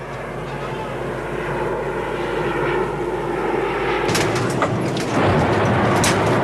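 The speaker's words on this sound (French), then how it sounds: "Non, ce sont des avions." Airplanes fly overhead near Kolwezi with a loud, continuous engine roar that swells and grows harsher partway through, while a voice speaks over it.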